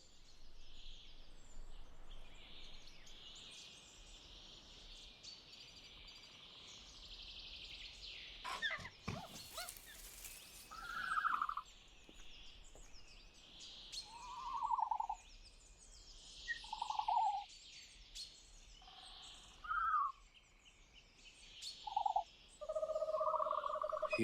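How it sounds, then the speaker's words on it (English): Dilophosaurus calls from a video game: several short, hollow, owl-like hoots at intervals over a faint chirping, buzzing ambience, with one brief louder rustle or crackle partway through. "That's the call of Dilophosaurus weatherilli."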